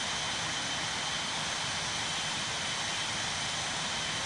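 Boeing 777 jet engines roaring in a Real Flight Simulator takeoff roll, a steady, loud broadband rush with a constant whine held throughout.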